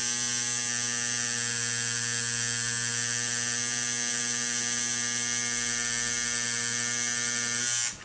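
A tattoo machine buzzes in a steady, close electric hum while tattooing a rose, running unbroken for about eight seconds before cutting off at the very end.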